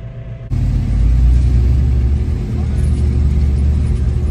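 Monster trucks rumble into an empty, bare arena, a loud low engine drone starting abruptly and holding steady with slight revving throughout, close by.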